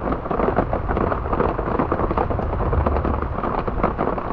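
Steady, dense rain pours down in a forest, a continuous hiss and patter with a deep rumbling undertone and no voices.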